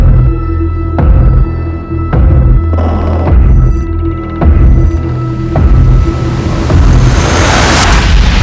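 Bomb blast in a crime TV drama about a family, heavy booming rumble with deep rolling bass and a series of low thuds, loud and dense, fading into a hissing roar.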